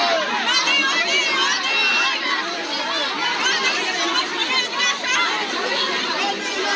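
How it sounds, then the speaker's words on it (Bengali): A protesting crowd of Trinamool supporters packs the area outside a polling booth in Canning West, South 24 Parganas, during a West Bengal election, with dense overlapping shouting and chatter holding steady and loud throughout. "তৃণমূল সমর্থকদের বিক্ষোভ।"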